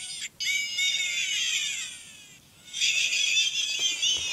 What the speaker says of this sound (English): Here's my giant blue bird.